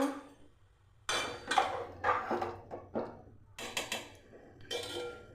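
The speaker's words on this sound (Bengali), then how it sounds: "আর আমি ঢাকনায় ঢেকে দিচ্ছি" A cooking pot of boiling water holding diced green papaya is covered with its lid, producing a run of close, distinct clanks and knocks spaced by short pauses, with no voices.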